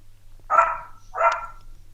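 A dog gives two clear, fairly close barks about a second apart, heard over a faint low hum during a live online stream, with no one speaking.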